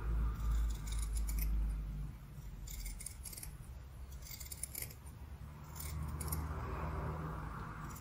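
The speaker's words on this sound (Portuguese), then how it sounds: "Vou cortar." Scissors cut through fabric for a handmade keychain or scented sachet, with a series of close, crisp snips and scrapes in a quiet room.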